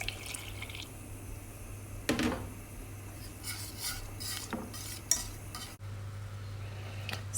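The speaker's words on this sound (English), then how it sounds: "Stir in a couple of tablespoons of grated parmesan cheese" Thickening white sauce made with milk for lasagne is stirred in a pan: soft, steady scraping and liquid swishing, a few sharper clinks of utensil against the pan, close and fairly quiet, with no talking.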